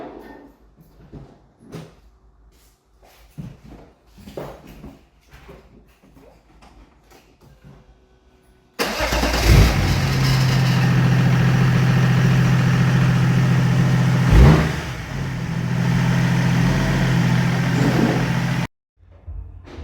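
Low, faint clicks and handling noises, then a BMW E36 with a swapped M57 diesel engine and a new turbo starts abruptly and settles into a steady, loud idle for about ten seconds before cutting off.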